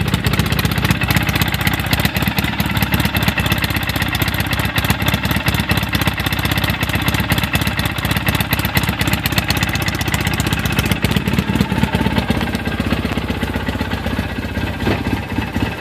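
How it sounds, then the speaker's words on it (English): The engine of a 2008 Polaris RZR running, a loud, continuous close rumble with rapid rough pulsing and no voices over it. "This motor is extremely strong."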